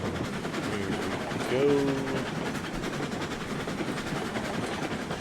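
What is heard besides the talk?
locomotive train running in video game RailRoads Online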